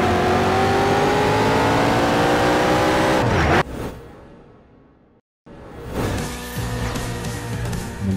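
Racing cars roar at full speed on a circuit in a PS3 racing game, engines whining loud and close, then the sound drops away into a fading rumble and brief silence before engine noise returns.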